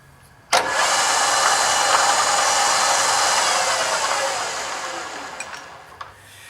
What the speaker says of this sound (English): we're just going to go ahead and drill and tap this with the M6, with a number 4 drill bit